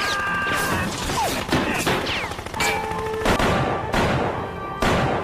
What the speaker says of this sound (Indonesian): Ia langsung menembak musuhnya tersebut.